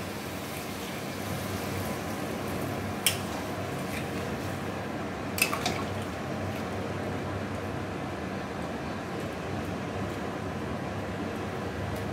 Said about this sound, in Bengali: এবার আমরা দিয়ে দিচ্ছি ঝোলের জন্য পরিমাণ মতো জল।